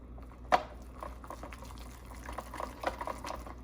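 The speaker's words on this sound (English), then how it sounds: "I'm gonna stir it up." Flour and water sourdough starter is stirred in a jar, one sharp knock followed by soft wet sloshing and squelching that grows busier toward the end, faint and close, with no voices.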